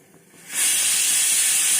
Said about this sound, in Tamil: இப்போ நல்லெண்ணெய் ஊற்ற போகிறோம்.